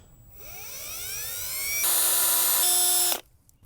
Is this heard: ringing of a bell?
no